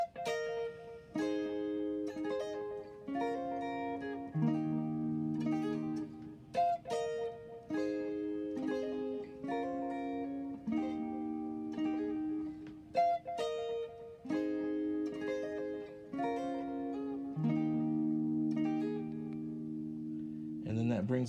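Solo guitar playing a part from a song with pull-offs, clear plucked melodic notes and chord phrases ringing in a steady rhythmic pattern, close and alone without talk.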